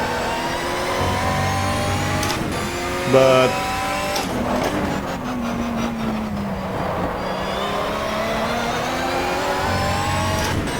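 Lister Storm race car in the GTR2 racing game, engine revving loudly and continuously as the car accelerates and shifts, with someone talking over the engine noise.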